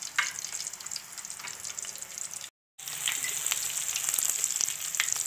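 Chicken koftas frying in oil over a low flame give a steady, fairly soft sizzle with fine crackles. It is close and continuous apart from a brief silent gap, with no talking.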